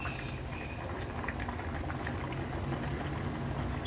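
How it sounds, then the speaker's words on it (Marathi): A rawas fish curry bubbles in a pot on a high gas flame, a steady, soft, continuous simmering hiss with faint pops and bubbling throughout, no voices. "आता हाय फ्लेम करते गॅसची, एक छानशी उकळी काढूया"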